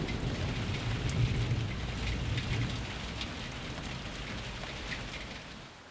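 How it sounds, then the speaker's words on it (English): Heavy rain drums against a roof in a steady, dense downpour, a continuous wash of patter at moderate volume with no voices. "unleashing a torrent of rain that drummed against the roof"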